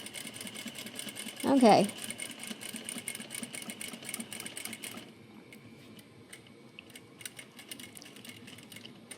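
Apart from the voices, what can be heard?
sewing machine stitching fabric diagonally corner to corner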